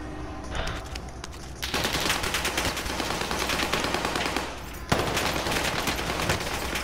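Dense rapid gunfire rattles continuously in a zombie video game, loud automatic bursts that intensify partway through with no talking over them.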